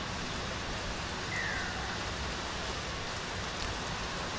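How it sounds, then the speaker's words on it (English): Heavy rain pours steadily over an outdoor women's rugby league match, a dense, even hiss of falling water with no distinct voices or other sounds rising above it. "the rain continues to get heavier and heavier"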